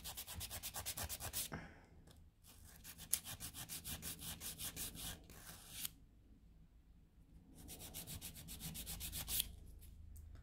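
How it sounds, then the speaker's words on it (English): A nail file rasps back and forth over an encapsulated acrylic nail tip in quick, rhythmic strokes. It comes in three close bursts separated by brief pauses. "I always slip whenever I'm filing this."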